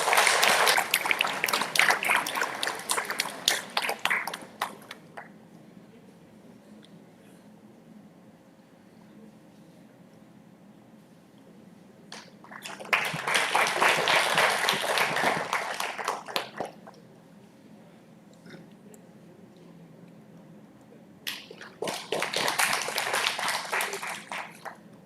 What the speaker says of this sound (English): Please, everyone, give a huge round of applause.